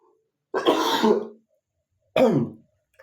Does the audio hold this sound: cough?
yes